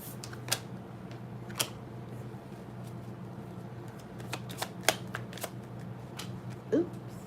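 Tarot cards being shuffled by hand, giving sharp intermittent riffling snaps and taps spaced irregularly over a faint steady hum, close and fairly quiet.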